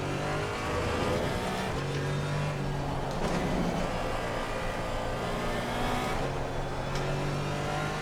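A race car engine roars loudly and continuously at the Nürburgring in Assetto Corsa Competizione, holding a steady drone with shifts in pitch as the throttle changes and a faint tire squeal, no voices heard.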